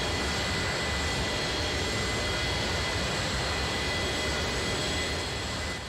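In X-Plane 11, the engines of an iniBuilds A300F freighter produce a loud, unbroken jet roar with a faint steady high whine, fading slightly at the end.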